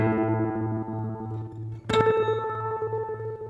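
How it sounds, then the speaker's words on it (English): Sustained electric guitar tones through a Seymour Duncan Dark Sun reverse delay, pulsing and swelling, a fresh note struck midway and repeats blooming backward behind it. "But then we've got a reverse delay."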